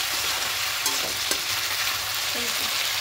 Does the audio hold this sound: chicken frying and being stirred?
yes